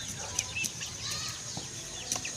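Native free-range chickens cluck and squawk softly amid faint rustling, with a few sharper clucks standing out against a quiet background.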